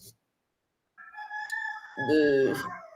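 A hen behind someone lets out a drawn-out, wavering call that swells near the end after a quieter stretch, heard fairly close in an otherwise still setting.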